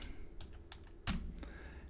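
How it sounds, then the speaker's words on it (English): A few keystrokes typed on a computer keyboard, quiet, close clicks with one louder tap midway, in a calm room. "I'm going to type the word labels"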